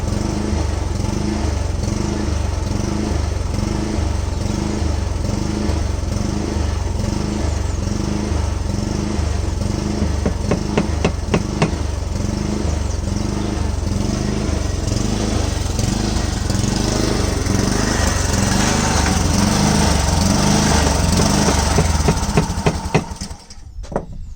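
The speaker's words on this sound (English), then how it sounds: "my dad came here with the lawnmower" A lawn mower engine runs steadily and loudly for the whole stretch with a throbbing, rhythmic drone, close by, then briefly dips at the end.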